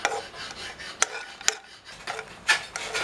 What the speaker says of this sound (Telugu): ఇప్పుడు జీడిపప్పు వేయించుకుందాం